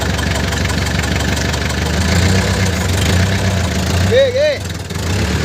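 An Isuzu 4BA1 diesel engine, freshly installed, idles steadily with a low mechanical rumble throughout, while someone talks over it and a brief whistle-like sound rises near the end.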